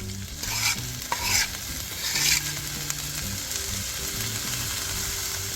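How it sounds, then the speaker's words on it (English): Onion and garlic sizzling in olive oil in a hot skillet, a steady close crackle with several louder bursts of stirring and scraping, no talking. "Right here I have a hot skillet and I'm going to add about a tablespoon of olive oil, a quarter of an onion, and 1 garlic clove."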